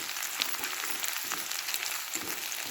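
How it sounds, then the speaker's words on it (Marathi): Masala with garlic and coconut roasts in an oiled pan, a steady close sizzle and crackle with faint soft stirring scrapes and no voices. "मसाला भाजून घ्यायचा"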